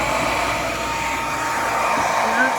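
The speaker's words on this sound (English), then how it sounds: "And that's the diffuser on my blow dryer. It's just a normal Revlon blow dryer." A standard Revlon blow dryer fitted with a diffuser drying a wet puppy in a grooming area, giving a steady, close, continuous airy whoosh that holds evenly throughout.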